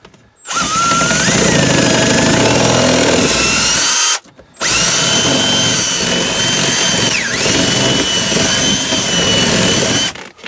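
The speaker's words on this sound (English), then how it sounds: "let's try drilling out an ignition" Power drill boring into the ignition lock of a Toyota van, a loud, close, continuous grinding whine in two long runs separated by a brief pause.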